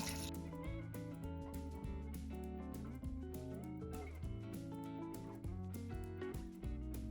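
Oil and water pour into a pot of raw chicken karahi with onions and spices, giving a steady, close splashing and bubbling liquid sound that runs continuously without speech.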